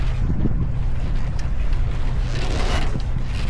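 Wind blows across a sailboat at sea in light winds, a constant close rushing noise buffeting the microphone, with faint water and hull sounds underneath and no talking.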